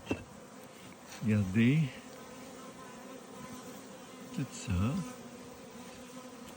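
Honeybees buzz around a Flow Hive beehive in Québec, two close buzzing passes rising and falling over a steady hum, with someone speaking briefly.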